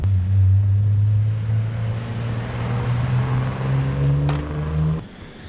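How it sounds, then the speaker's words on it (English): An air compressor drones steadily while pumping air into a vehicle's rear tire, a loud close hum that cuts off abruptly near the end. "we'll get that rear tire pumped up with some air"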